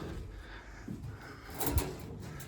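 A rabbit hutch door is pushed shut outdoors, a short wooden scrape and knock with a brief rattle of the latch near the end.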